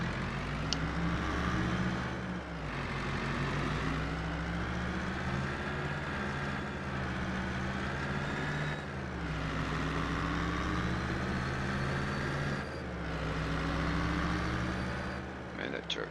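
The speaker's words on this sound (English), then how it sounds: "Man, that truck's loud." A loud truck engine in the Farming Simulator 22 video game gives a steady, droning rumble with a few brief dips as it cruises along a road.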